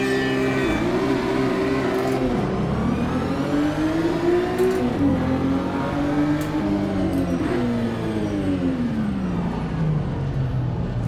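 A BMW M2 CS engine in a racing simulator game, a continuous droning engine note that rises and falls in pitch as the car revs and shifts, loud and steady throughout.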